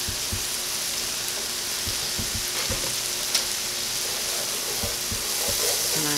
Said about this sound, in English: And I'm just going to stir that around and incorporate it into our vegetables and cook out the flour taste